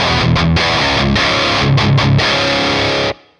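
A crunchy, distorted electric guitar tone from a Quad Cortex modeler with subtle room reverb, a loud, dense run of strummed chords and short stops that ends abruptly, played alone.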